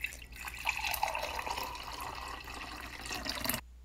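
Coffee poured from a coffee press into a cup, a soft close trickle and splash of liquid lasting a few seconds before stopping abruptly.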